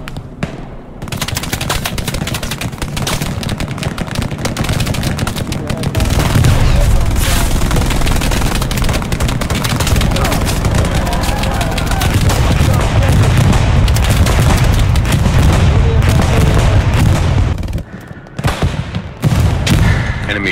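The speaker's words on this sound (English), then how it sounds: "They're also doing a bombing run on the front line." Heavy bombing and gunfire rumble along the front line in the Hell Let Loose war game, a continuous loud barrage of booms, blasts and rattling shots that swells midway, then briefly dips near the end.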